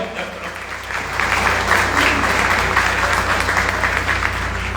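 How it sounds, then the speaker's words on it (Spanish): Audience at a book presentation applauding the moderator, sustained clapping that swells after about a second and holds steady, close and full, with a low hum beneath. "un aplauso para ella, que es la moderadora hoy"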